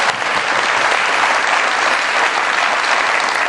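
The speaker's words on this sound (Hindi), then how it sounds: "बहुत सारी तालियों में वेलकम कीजिएगा मोहतरमा नीलम अहमद बशीर साहब।" Steady applause from a studio audience on a comedy show greets a guest, a dense, even clapping that holds at full strength for a few seconds with no break.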